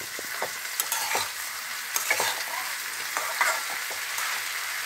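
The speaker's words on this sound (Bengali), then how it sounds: "যদি একটু রস থেকে থাকে সেটা আমি নেড়ে নেবো" Tangra fish curry with onion stalks being stirred in a pan, a spoon scraping and clicking in irregular strokes over a soft steady sizzle, close and fairly quiet with no voices.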